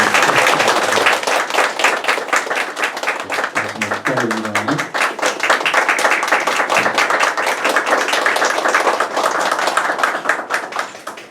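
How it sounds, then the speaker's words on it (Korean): Sustained applause from a church congregation at a church founding service, dense and steady clapping throughout, with a brief low voice-like tone near the middle. "박수를 하나님 앞에 올려드립니다"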